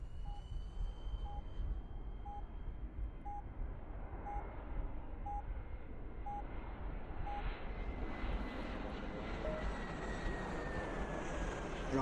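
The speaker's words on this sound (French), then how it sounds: "à cause de l'avion qui passe" An airplane roars overhead, its broad engine rumble building and swelling, while a faint steady beep repeats in the background.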